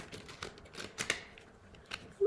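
A stiff plastic tarot deck of about 80 cards being shuffled, giving irregular crisp riffling clicks and flutters in short bursts, close and fairly quiet, ending with a louder shuffle.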